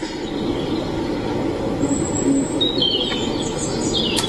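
Birds chirping outdoors near a home, a few faint high tweets over steady low background rumble.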